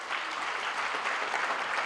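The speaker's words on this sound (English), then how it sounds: "Can I also request you to give a round of applause for everyone?" Brief, fairly quiet applause from an audience at a university graduation ceremony, an even patter of many hands clapping with no break.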